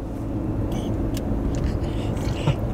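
Steady road traffic rumble from cars on a city street, a continuous low drone heard from inside or near a vehicle, fairly loud and unbroken with no talk over it.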